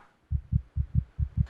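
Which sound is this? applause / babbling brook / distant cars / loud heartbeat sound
loud heartbeat sound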